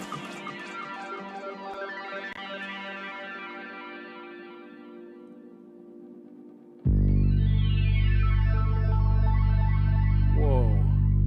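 An electronic music track where a synth line passes through a delay effect, its echoing repeats trailing off at moderate level before a louder, bass-heavy section with more repeating delayed notes kicks in.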